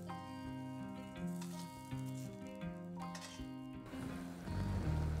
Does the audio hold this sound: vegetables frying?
yes